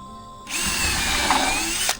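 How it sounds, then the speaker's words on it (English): A power drill pre-drilling wood decking for large bolts whirs steadily at close range for over a second, its high motor whine holding level before cutting off abruptly. "I'm pre-drilling everything because these bolts are very large."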